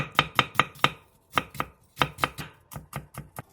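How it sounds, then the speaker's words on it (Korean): A knife chopping cheongyang green and red chili peppers and slicing onion on a cutting board, crisp rapid taps in quick bursts with short pauses, close and clear. "청양고추 한 개, 청양홍고추 한 개를 쫑쫑 썰고 양파 4분의 1개를 얇게 채 썰어주세요."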